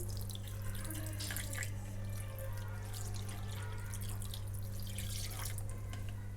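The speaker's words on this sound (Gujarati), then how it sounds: "તો આ રીતે પાણી નાખીને પનીરમાંથી બધી ખટાશ છે એ દૂર કરી લઈશું।" Water is poured over homemade chenna to wash out its sourness, a continuous splashing, trickling stream heard close and steady with a low hum beneath and no talking.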